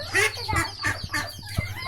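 Domestic desi ducks and chickens cluck and call in short repeated bursts, close but fairly quiet, with people talking in between.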